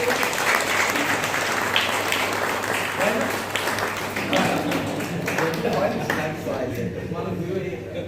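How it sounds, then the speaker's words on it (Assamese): A crowd at a Bodo wedding gathering in Udalguri claps their hands in sustained, steady applause lasting about eight seconds, with voices talking underneath. "সকলোৱে হাত চাপৰি"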